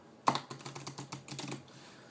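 Playing cards riffled and mixed together by hand, a rapid run of crisp flutters and light snaps close up, with a sharp first burst and then a steady patter that tapers off.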